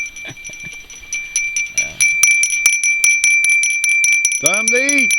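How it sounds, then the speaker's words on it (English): A dinner bell rings repeatedly in quick, bright strokes, loud and close, with a voice speaking briefly in the middle. "Dinner bell."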